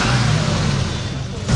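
Vintage American car with a 7.2-litre V8 and automatic gearbox running at a classic car show, a steady loud broadband engine rumble throughout with a faint voice underneath.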